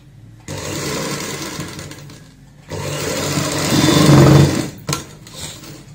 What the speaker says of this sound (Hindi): इस साइड में भी इसको ऐसे मिलाते हुए यहाँ पे भी सिलाई लगाएंगे।